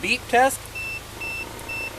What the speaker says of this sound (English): So what we're gonna do is simply just do a beep test.